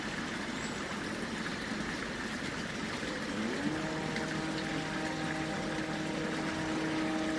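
Water flows steadily through woodland, a continuous soft wash that stays faint, while an engine-like tonal hum from machinery nearby joins partway through and holds to the end.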